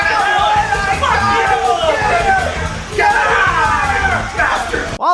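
A live stage show audience screams and yells together at full volume, a dense, sustained roar of many voices close by that swells and dips slightly across a few seconds.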